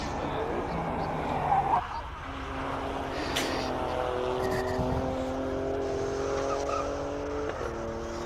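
An Alfa Romeo Stelvio climbs a hill-climb course, its engine droning and rising through gears with brief tire noise, while a commentator talks over it.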